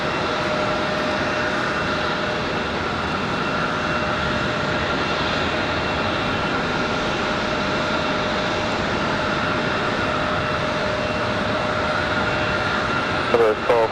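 A Southwest jet airliner departs on the runway at Raleigh-Durham International Airport, its engines producing a loud, steady roar that holds throughout.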